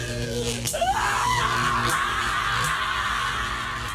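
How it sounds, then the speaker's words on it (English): A learner screaming in pain during the Milgram electric shock experiment: a loud, close, anguished voice that rises into a sustained wail and holds for several seconds. "At 150 volts, the learner screams"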